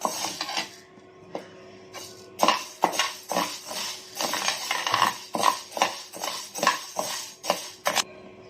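Black urad dal dry-roasting in a kadai brings repeated metallic scrapes and clinks in a loose stirring rhythm, close and distinct, with a few quieter pauses between strokes.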